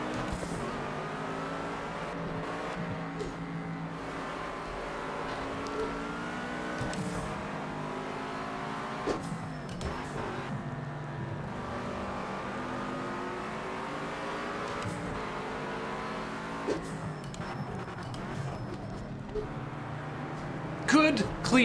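Race car engines droning and revving continuously while cars overtake in the video game Project Cars 2, with shifting pitches of passing motors and a brief sharp burst near the end, under steady talk.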